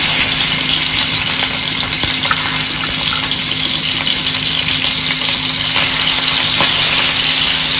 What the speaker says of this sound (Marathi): मंद गॅसवर अगदी खरपूस भाजून घ्यायचं आहे